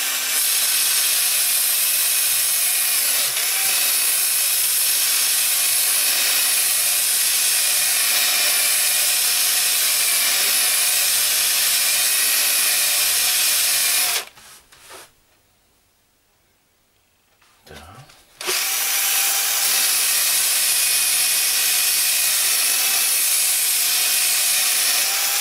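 A knife is sharpened on a grinder, giving a loud, steady hissing whir that drops out abruptly for a few seconds before resuming at full strength.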